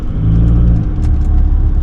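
A Beetle car engine pulls hard after a gear change to third, a loud, steady low rumble with harmonic drone that eases slightly about midway, with no one talking.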